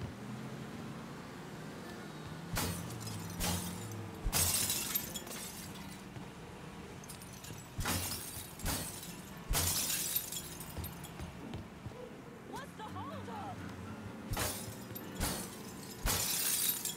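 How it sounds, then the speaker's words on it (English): Booze bottles shatter one after another in the video game Mafia 3, a series of sharp, loud glass-breaking crashes spread across the stretch, with quieter ambient game sound between them. "Smashing up some booze, lady."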